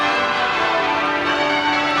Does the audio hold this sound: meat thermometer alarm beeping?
no